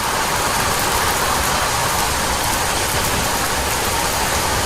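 Heavy monsoon downpour during the habagat season pours as a dense, even hiss that fills the whole stretch without a break, with an engine-like rumble below.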